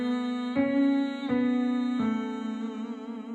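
A light, easy hummed vocal warm-up sung with closed lips, one steady sustained pitch that swells softly at a few points and holds a gentle, unforced tone throughout.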